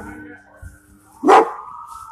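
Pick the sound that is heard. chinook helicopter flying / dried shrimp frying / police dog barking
police dog barking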